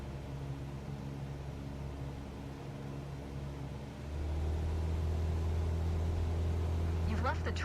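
A light aircraft engine in Microsoft Flight Simulator 2024, cruising at 5,500 feet, drones steadily with tonal harmonics, then steps up louder and fuller partway through as power rises toward 2,300 RPM.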